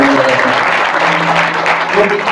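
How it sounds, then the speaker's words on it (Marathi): Loud, steady applause from an audience at a Marathi kirtan, a dense wash of clapping that fills the whole moment without a break. "एकदा जोरदार टाळ्या होत्या आमच्या"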